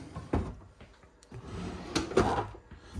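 A pull-out drawer in a 2022 Riverstone Legacy 37FLTH toy hauler slides out and pushes shut with a few soft wooden knocks and rattles, close by in a quiet room.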